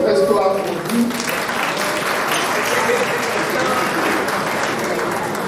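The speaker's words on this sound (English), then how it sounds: "Let's clap for you." Audience applause at the Black Diamond Awards 2024 ceremony, a dense steady wash of clapping from a large crowd that holds loud and even throughout.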